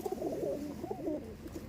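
A pigeon held in a handler's hands coos steadily, a series of soft, throaty low calls repeating close to the microphone with no talking.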